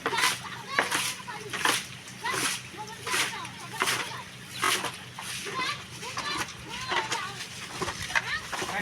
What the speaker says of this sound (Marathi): इकडे चिखल उडवीत आहे पाणी